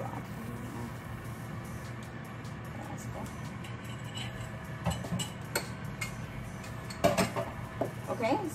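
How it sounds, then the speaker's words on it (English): Sesame chicken sauce being stirred together in a bowl, a steady clink and scrape of utensil against dish under a low kitchen hum, with sharper knocks near the end. "So all you need to do is just mix it all together."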